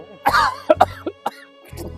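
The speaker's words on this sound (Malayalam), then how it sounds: "ഇപ്പൊ മഞ്ഞുകാലല്ലേ രാവിലെ, അതുകൊണ്ട് ആ തണുപ്പോണ്ട് എല്ലാവർക്കും ചുമ" Several harsh coughs in quick succession from a smoker with a winter morning cough, loud and close, with a short pause before a final rougher cough and throat clearing.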